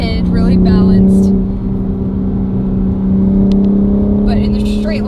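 A 2023 BMW M4 Competition's engine drones loud and steady from inside the car, holding a sustained pitch with a slight shift partway through, and no talking over it.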